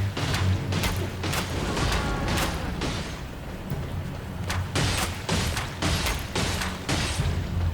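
Rapid bow shots fired in quick succession in Elden Ring, each a sharp mechanical snap and release, repeating steadily about twice a second over a constant low background of game sound.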